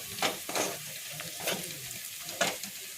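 Jackfruit cutlet mixture fries with a soft, steady sizzle while a spoon stirs it in a pan, giving several distinct scraping strokes at uneven intervals up close. Cumin powder is in the mix, and no one talks.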